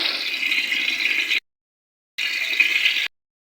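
Boiled jaggery water strained through a strainer gives two short spells of steady pouring and trickling, close and fairly loud, separated by a brief silence.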